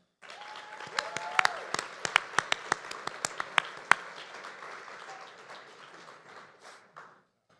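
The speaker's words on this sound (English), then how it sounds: "Please give a round of applause to Ashay Brantley, Armand McCoy, and Catherine Ann." Applause from a conference audience rises after the introduction of three poets, steady clapping with several sharp nearby claps standing out, then tapering off toward the end.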